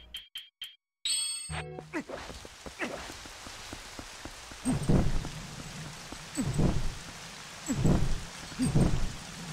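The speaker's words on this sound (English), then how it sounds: "Oh, it's raining, duh!" Steady rain in The Legend of Zelda: Twilight Princess patters throughout, with sharp clinking drops and occasional louder splashes, after a few brief chime-like tones at the start.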